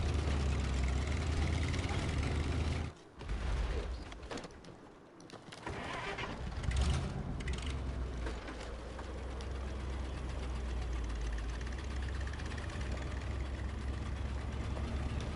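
Truck engine in the SnowRunner video game, driven on a washed-out trail on a Red Canyon mod map, runs steadily with a low rumbling drone that dips briefly and strains, then holds a constant loud hum.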